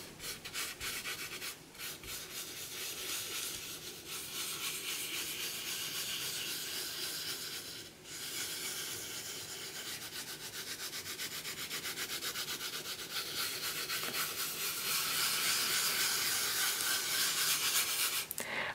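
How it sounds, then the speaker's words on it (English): Fingertips rubbing glitter into a sheet of polymer clay, a close, faint and continuous gritty scratching hiss with a brief pause partway through. "I am then going to spread this all over the sheet of clay, rubbing it in with my fingers."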